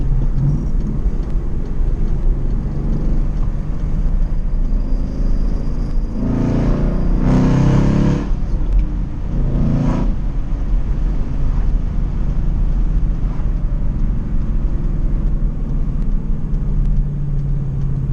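A 2016 Mustang GT with loud exhaust driving through a neighborhood, a steady deep rumble throughout with a few brief swells as the engine revs, close and continuous with no talking.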